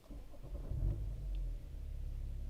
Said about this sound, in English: This is the M Sport exhaust again.